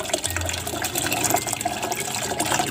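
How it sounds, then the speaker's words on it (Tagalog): Water pours into a basin for clean water in a tubifex worm setup, a continuous close splashing and gurgling fill with small drips throughout. "ito na yung last na tubig na ilalagay natin dito sa tarapalpan, no, para sa paglalagyan ng tubig na malinis"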